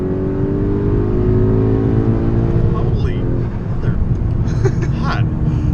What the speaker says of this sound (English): I'm going to do a quick second gear pull here